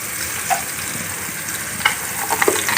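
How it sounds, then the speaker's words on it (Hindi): Onions frying with finely chopped ginger and green chillies in a pan: a steady, close sizzle with occasional soft stirring scrapes and small pops. "थोड़ा सा लाइट ब्राउन करेंगे प्याज को, उसके बाद क्या कहते हैं बारीक कटी हुई अदरक भी डाल देंगे, और ये हरी मिर्चें भी।"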